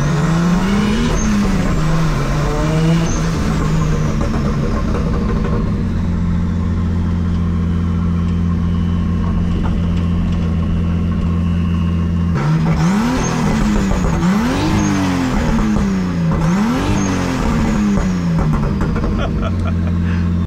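A car engine, apparently the father's car, runs steadily and is revved several times, its pitch climbing and dropping in loud repeated swells against a constant idle drone.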